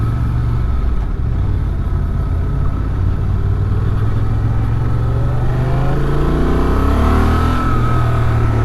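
A 2023 Honda Transalp XL750 motorcycle on a test ride, its engine droning steadily and loudly throughout with faint pitch shifts as it pulls along.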